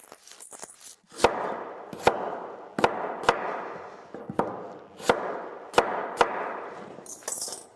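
A knife chops onions into quarters on a cutting board, with about nine sharp, separate cuts spaced unevenly and heard close and clear against a quiet kitchen background.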